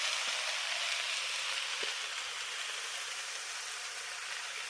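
Kalmi shak greens frying in a wok give a steady, dense sizzle that holds evenly throughout, with a couple of faint clicks and no voices.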